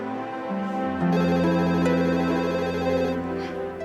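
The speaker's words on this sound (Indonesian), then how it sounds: "Ada telepon." A telephone rings indoors in a family home, a loud electronic ringtone melody with sustained repeating tones that swell in and continue steadily, with no talking over it.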